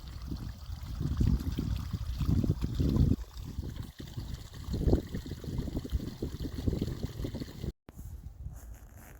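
River flood water from the River Nar, heard with the camera submerged, gives a muffled, turbulent underwater rushing and gurgling with low thumps, steady and close.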